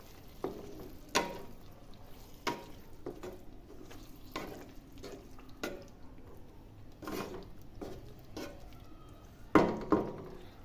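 A spoon scrapes and knocks against a pan while chopped boiled eggs are stirred into a curry. The sharp clinks are irregular and spread over several seconds above a low sizzle.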